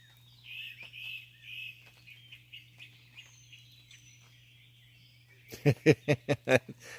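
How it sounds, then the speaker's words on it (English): A woodpecker drums across a lake in a quick burst of about six sharp, fairly loud knocks near the end, after faint bird calls over a steady low hum. "woodpecker pecking."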